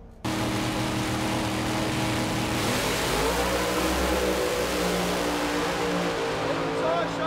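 Two drag racing cars, one a Torana, launch side by side at Heathcote Park Raceway during a 9.99-and-under bracket event, engines roaring loud and continuous as they accelerate away, with a commentator's voice running over the top.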